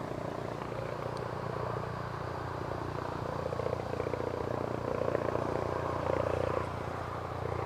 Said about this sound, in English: I can hear a chopper.